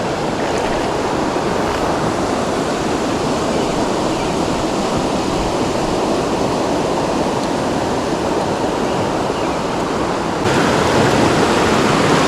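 Steady, dense rushing of water from a waterfall on a brown trout river, a broad continuous roar close by that swells slightly near the end, with no voices.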